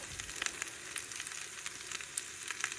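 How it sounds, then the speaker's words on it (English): Potatoes and onions frying in a pan for a camping breakfast in the Sacramento Mountains, giving a soft, steady sizzle with faint crackles, quiet and close, with no talking. "Fried potatoes and onions,"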